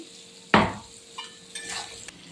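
Potatoes and soybean chunks with turmeric are stirred in a hot pan: one loud spoon scrape and sizzle burst, then a couple of quieter stirring passes over a low background sizzle.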